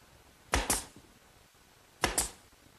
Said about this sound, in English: The trim pieces are glued and nailed in place with some brads.